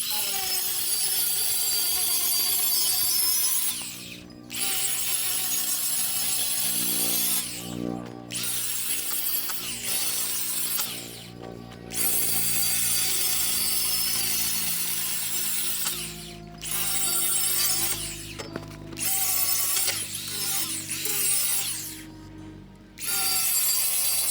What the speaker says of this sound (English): So I switched out the cutting wheel on this 20-volt DeWalt. Got the grinding wheel, and we'll try to get these grooves out.